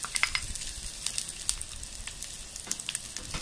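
Chopped red onions frying for a cucumber curry, a soft, faint sizzle with scattered small crackles and pops over a quiet background, no voices.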